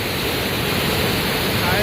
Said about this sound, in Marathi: अख्खा पाण्याचा आवाज येतोय